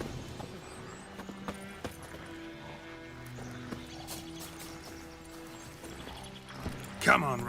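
Hooves of Roach, a horse in The Witcher 3 video game, clop quietly and steadily under game sounds, with a louder burst near the end and a voice talking over them.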